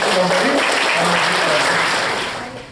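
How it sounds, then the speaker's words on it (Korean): An audience at a Korean current-affairs lecture applauds to welcome the speaker, giving loud, continuous clapping from many hands that tapers off near the end, with some voices mixed in. "다 함께 박수로"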